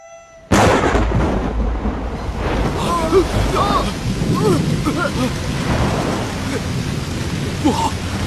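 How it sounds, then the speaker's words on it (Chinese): A thunderstorm over the Yangtze River, heard as a sudden loud thunder crash followed by a steady roar of heavy rain and rumbling, with no voices. "不好，有暴风雨。"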